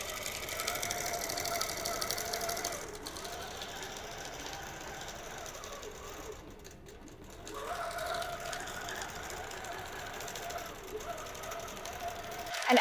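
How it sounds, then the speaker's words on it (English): A QCT6 Plus machine stitching out a design with micro stitches, a quiet steady mechanical whirr and rapid needle rhythm that briefly dips midway and then resumes. "So it's going to do a few micro stitches to stitch out that design."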